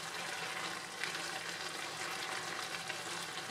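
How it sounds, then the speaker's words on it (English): Broth for rice noodle pancit with pork and vegetables boils in a pot, giving a steady, close bubbling hiss and gurgle that holds evenly throughout without any talking. "the broth is boiling"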